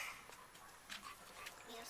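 Mystic, a pet dog, gives faint, short whimpers, quiet and close, over a soft background hiss.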